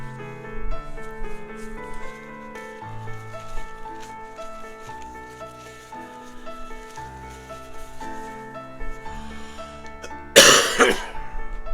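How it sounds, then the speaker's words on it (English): Quiet music plays, then near the end one loud, forceful burst of nose-blowing cuts through, brief and close. "I gotta blow my nose."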